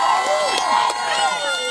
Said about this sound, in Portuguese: Ei, aplaudam o Noah.